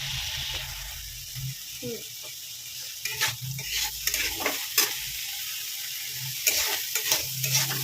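Village-style fish curry with raw bean seeds being turned in a pan, with scraping, clattering stirs over a soft bubbling sizzle, close and fairly loud.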